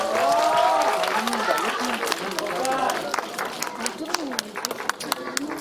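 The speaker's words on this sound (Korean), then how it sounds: "우리 꼬마 친구에게 박수 한번 보내주세요" Crowd chatter and excited voices in a cinema audience at a film stage greeting give way to scattered applause for a child, with claps growing sharper and more distinct toward the end.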